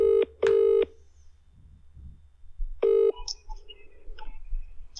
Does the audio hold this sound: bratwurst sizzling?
no